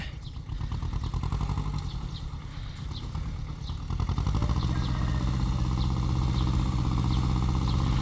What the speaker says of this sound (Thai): เสียงเครื่องยังห้าวๆอยู่เลยฮะ